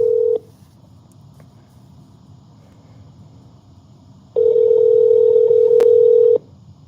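Steady telephone dial tone plays close and clear for a moment, cuts off into a low hum, then returns loud for about two seconds with a quick dialing beep before stopping, no voices over it.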